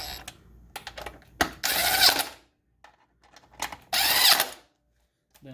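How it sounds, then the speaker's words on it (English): On a Polaris Slingshot, an impact wrench drives the starter bolts down slowly in two short, loud, buzzing bursts, separated by quiet gaps with faint clinks and handling noises. "I'm using impact to just barely run them down nice and slow."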